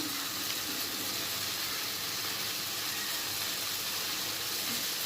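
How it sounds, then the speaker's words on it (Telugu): Tomatoes and turmeric fry in a pan for a red chilli chutney, giving a steady, dense sizzle that holds evenly and close throughout, with no voices. "కొద్దిసేపు వేయించుకుంటే సరిపోతుంది"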